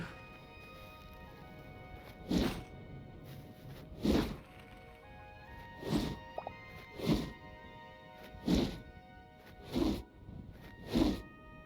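Heavy mace strikes in the video game Hytale land as about eight dull, thudding whacks spaced a second or two apart over a steady background hum.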